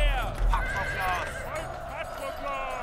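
Horses are being hitched to chariots before a battle in ancient Troy. They whinny repeatedly over steady clip-clopping hooves and low background bustle, with a narrator's voice running over the sound.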